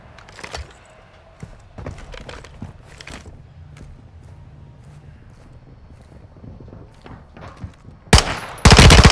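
Scattered gunshots and footsteps in a Call of Duty Modern Warfare 2 match, mostly faint and sparse, ending with a sudden loud, close burst of fire.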